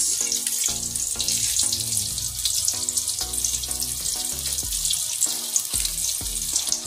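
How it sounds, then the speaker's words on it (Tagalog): Eggplant frying in a pan of hot oil, a steady bright sizzle with clinks of a utensil against the pan and a low tonal hum underneath. "pagkatapos ko mag-prito ng talong"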